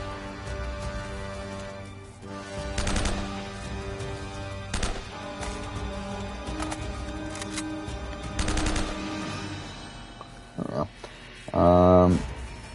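Sniper fire and other gunshots ring out in Uncharted: Drake's Fortune, scattered bursts and single shots over a busy game soundscape, with people talking throughout.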